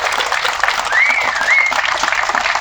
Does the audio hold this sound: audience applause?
yes